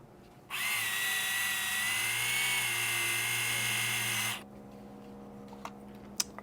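A Tamiya Mini 4WD electric handy drill runs for about four seconds with a steady, loud, high-pitched motor whine, then stops, leaving faint clicks and room noise.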